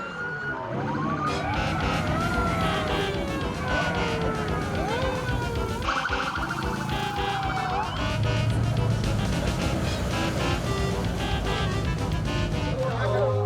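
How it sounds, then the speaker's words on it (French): Police car sirens wail in overlapping rising and falling tones as a procession of police vehicles drives past on a Berlin street, loud and continuous over traffic rumble and crowd chatter. "un défilé de voitures de police venues d'ailleurs"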